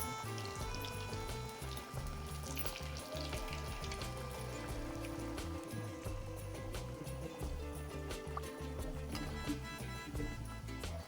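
Cucumber vadya (kakdiche vadya) fry in a pan with a steady, close sizzle and crackle running continuously throughout.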